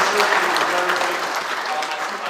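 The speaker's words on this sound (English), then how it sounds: "who's going for a round of applause." Steady audience applause fills a room at a youth showcase event, a dense even patter of many hands holding at a fairly loud level with faint voices mixed in.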